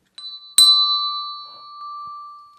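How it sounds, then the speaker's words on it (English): A single orange pitched bell is struck once, ringing a clear sustained tone that decays slowly with a bright metallic attack, alone without voices. "let's get our note from our pitched bells"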